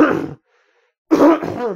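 A person coughs and clears their throat in two rough bursts separated by a short silence, close and loud.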